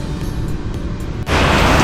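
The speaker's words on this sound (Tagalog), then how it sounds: "Nako, ang lakas ng ulan, no?" Heavy rain pours down, a low wet rumble that abruptly swells into a loud, hissing downpour partway through and stays intense to the end.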